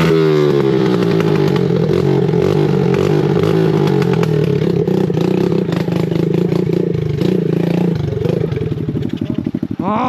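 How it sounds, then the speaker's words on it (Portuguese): Close, loud dirt-bike engine on a muddy trail, revving and holding a steady drone, then sputtering into rough, rapid popping pulses near the end as the bike starts acting up. "essa moto começou a dar pau agora"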